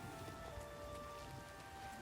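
Even, dense patter of rain falling in a video game, a constant close wash of drops with faint thunder barely present and a couple of steady tonal lines running beneath, no talking.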